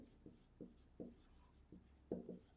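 Pen writing on paper while a math answer is noted down, a series of short soft scratchy strokes in an irregular rhythm, quiet and close with no voices.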